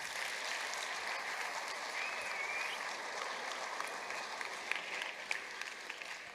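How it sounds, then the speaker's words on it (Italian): Audience at a live DJ event on legality breaking into steady, fairly distant applause that holds evenly throughout, with a few sharper individual claps near the end. "Un applauso al potere delle parole."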